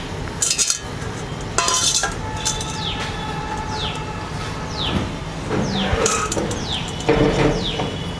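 Metal utensils clink against a pan in a few short, sharp bursts while crispy fried onion bhajis are lifted out of hot oil, with a steady frying hiss running underneath.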